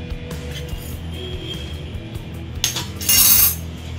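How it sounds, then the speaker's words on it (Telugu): A spoon clinks and scrapes against a bowl while mixing okra bajji batter ingredients, with light irregular taps and a louder burst of clattering near the end. "స్పూన్తో మొత్తం ఇవన్నీ బాగా కలిపేసుకోవాలి"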